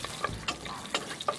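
A chopped onion fries in about two tablespoons of oil while being stirred, with soft steady sizzling broken by a few sharp scraping strokes of the spoon, close and fairly quiet.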